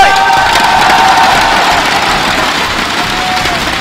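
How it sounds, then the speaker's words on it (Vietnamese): A large crowd at a League of Legends championship final roars steadily throughout, a dense, loud wash of cheering and shouting with no breaks, as if filling an arena. "muốn nghe những tiếng reo hò, những nhiệt huyết của khán giả đến từ hai đội"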